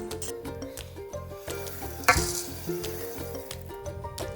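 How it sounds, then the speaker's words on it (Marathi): Chana dal dry roasting in a pan on a low flame, giving a steady soft sizzle with rhythmic scraping from stirring and one brief clink of utensil on metal near the middle. "इथे मी दोन कप चना डाळ पण भाजून घेते आहे"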